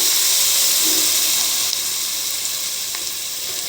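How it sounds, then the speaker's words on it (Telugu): Grated amla (Indian gooseberry) fries in about four spoons of oil in a pan, giving a steady, close, hissing sizzle that holds throughout, with a faint clink or two near the end. "ఇదండి బాండ్లు పెట్టి ఆయిల్ ఒక ఫోర్ స్పూన్స్ ఆయిల్ వేసినాను ఇది వేయించుకోవాలి చక్కగా"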